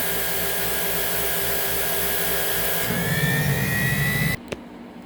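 A Sebo C3 vacuum cleaner roars steadily up close, with its pitch shifting as the nozzle draws suction, then it cuts off abruptly near the end.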